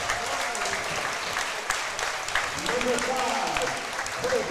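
Gym crowd at a boys high school basketball game between Oak Hill and Vinton County, applauding steadily through starting lineup introductions, a broad sustained clapping wash with a voice over the arena.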